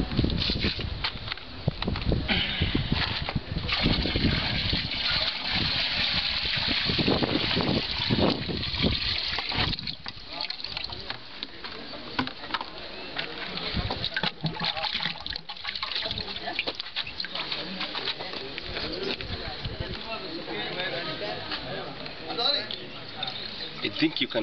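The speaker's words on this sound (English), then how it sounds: "We're going to pour the water into this biosat filter and then you can watch what comes out of it." Water is poured into a biosand water filter, making a continuous gushing and trickling that gradually eases, while a person talks over it.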